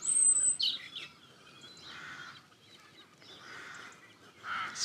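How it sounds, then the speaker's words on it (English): Bird singing outdoors in nature, a bright whistle and chirps at the start, then fainter repeated warbling phrases at a moderate distance over quiet ambience. "can really hear a bird singing"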